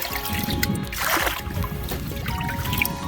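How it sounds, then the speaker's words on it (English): Water splashes and trickles close by in short scoops and pours as a titanium cup bails water from a canoe, with quieter sloshing between, outdoors. "Just get some of this water out."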